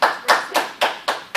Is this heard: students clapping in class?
yes